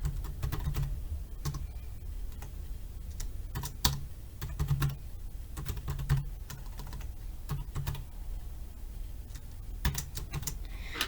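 Typing a search query into PubMed on a computer keyboard, with steady close key clicks in irregular bursts and occasional heavier keystrokes, alone without talk.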